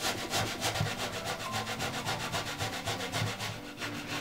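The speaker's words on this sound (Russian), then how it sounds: "И сейчас будем ее натирать на мелкой терке." Beetroot scrapes rhythmically across a fine kitchen grater in steady, close back-and-forth strokes, moderately quiet with no talking.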